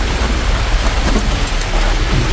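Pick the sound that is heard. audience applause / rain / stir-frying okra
rain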